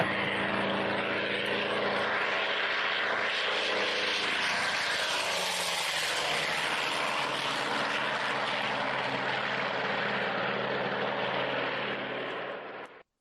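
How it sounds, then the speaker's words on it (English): Douglas A-1E Skyraider propeller plane starting up and taking off, a loud continuous radial engine roar and propeller drone that holds steady throughout, then fades out at the very end. "let's take a listen to the Skyraider starting up and taking off"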